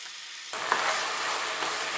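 Chicken karahi starting to cook over a high gas flame, a hiss of sizzling that bursts in suddenly after a quiet moment and then holds steady, close and fairly soft.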